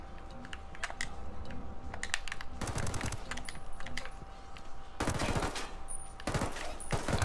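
Rapid gunfire bursts in Ghost Recon Wildlands, with sharp repeated shots clustered in dense volleys and short pauses between them, loud and close.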